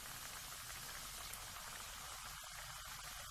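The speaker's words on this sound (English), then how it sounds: "Fry it in low flame." Steady broadband sizzling of gaja, an Odia sweet, frying in hot oil over a low flame, continuous and fairly even throughout with no voices.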